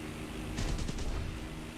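Spitfire cannons fire in War Thunder, a short rapid burst of several thudding shots over a steady loud engine drone, close and heavy.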